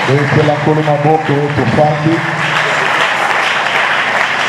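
A church congregation applauds during a Friday worship service. A voice sings or speaks over the start, then broad, steady clapping continues on its own.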